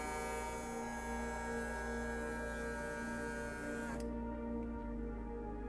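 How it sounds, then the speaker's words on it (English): A small electric pump in a homemade battery-powered portable air conditioner runs with a steady, close motor hum and whine, then part of the high-pitched whir drops away near the end. "the pump activates when we turn on the battery"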